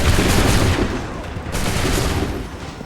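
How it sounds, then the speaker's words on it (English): A volley of musket gunfire from the Assassin's Creed 3 video game sounds as dense, overlapping loud shots and booms, fading slightly midway before a second burst of firing. "Open fire."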